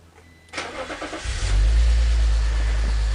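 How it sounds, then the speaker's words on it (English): A BMW X3 E83's M54 engine cranks briefly with a rapid starter whirr after a head gasket replacement, then catches and settles into a loud, steady, deep idle close by. "That's what an M54 is supposed to sound like"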